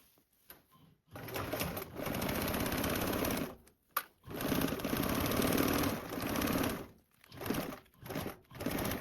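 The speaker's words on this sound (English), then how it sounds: "going to sew with a 3/8 seam allowance" A sewing machine stitches a 3/8-inch seam on a VentureTote bag in several loud, steady runs of rapid needle chatter separated by brief stops.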